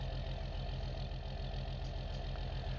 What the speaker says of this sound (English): It's just my tractor, don't worry.